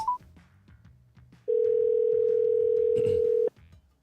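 A telephone line tone heard while a morning radio show in the Marianas places a call: one loud, steady electronic tone holds for about two seconds, then cuts off abruptly over a quiet background.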